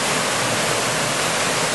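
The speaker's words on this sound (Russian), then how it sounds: "Эта речка образует каскад небольших живописных водопадов" Steady, dense rush of water pours over a cascade of small waterfalls on a river, a loud continuous roar with no breaks and no voices.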